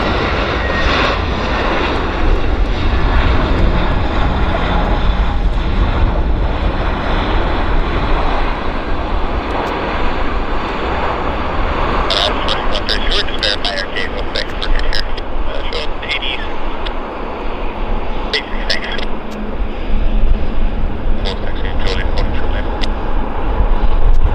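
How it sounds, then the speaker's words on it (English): An Air Canada Flight 183 airliner, inbound from Toronto, landing at Vancouver airport: a loud, sustained jet engine roar with wind rumble throughout, plus some clicking noises later on. "That was inbound from Toronto, Air Canada Flight 183"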